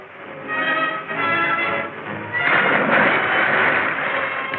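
A horse whinnies loudly and at length, its shrill neigh rising and wavering, with muffled background noise and no talk.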